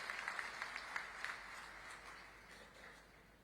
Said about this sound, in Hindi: जोरदार ताली बजाओ बृजमोहन जी के लिए।